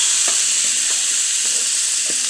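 Chicken sizzles in a hot oiled pan, a steady bright hiss of frying that carries on evenly, with a few soft clicks and scrapes from a utensil near the pan.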